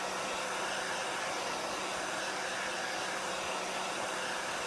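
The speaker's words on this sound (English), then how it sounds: "I'm going to get my hair dryer." A hair dryer blows in one steady, even rush of air for several seconds at a crafting table. It sounds close and constant, with no talking over it.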